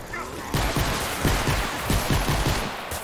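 Booming cannon blasts in the video game Fortnite, a quick series of loud, heavy shots fired in succession, close and dominant with no talk over them.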